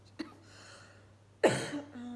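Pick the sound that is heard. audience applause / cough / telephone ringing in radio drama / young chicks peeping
cough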